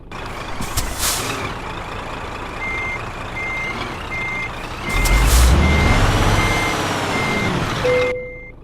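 A truck in Euro Truck Simulator 2 gives steady, loud, evenly spaced reversing beeps over a diesel engine idle, broken by two sharp hissing bursts of air brake release.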